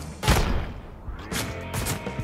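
Gunshots ring out in the video game Ride to Hell: Retribution: one sharp blast, then a pair of shots about a second later, loud and close over a low background.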